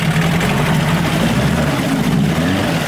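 A 1988 6hp Johnson Evinrude outboard motor runs in a test barrel, a steady loud low drone that holds evenly throughout with no breaks.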